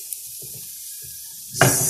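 Pancake batter poured into hot oil in a pan, heard as a sudden broad sizzling hiss that bursts in near the end after quiet low clinks and kitchen handling.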